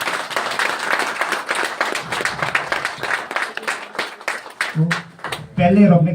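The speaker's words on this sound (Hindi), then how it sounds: "जोरदार ताली एक बार।" An audience at a seminar in Shimla breaks into clapping, a rapid irregular patter of many hands that fades out, followed by a voice speaking near the end.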